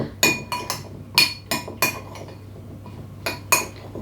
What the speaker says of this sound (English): So give that a nice little mix in to your tomatoes